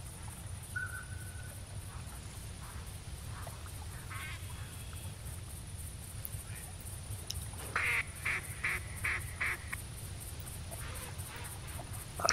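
A duck quacks in a short burst of repeated calls in the hunting video game The Hunter, following an earlier faint call, over a steady outdoor ambience with no talk.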